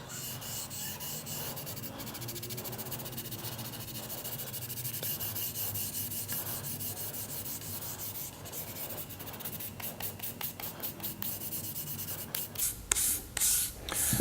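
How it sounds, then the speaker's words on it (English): Steady, fine scratchy rubbing of fine sandpaper on a sealer-coated guitar body, continuous and close, with quicker strokes and a few bumps toward the end. "I'm going to lightly start sanding here to see what I can do to remove that sanding sealer"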